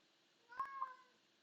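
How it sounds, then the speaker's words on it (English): A cat meows once, faint and somewhat distant, a short drawn-out call in an otherwise quiet room. "And the cat just woke up."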